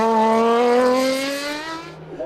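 Norma race car with a 3-litre engine at a hillclimb, its engine note screaming loud and close with a steadily rising pitch as it accelerates past, easing slightly at the end.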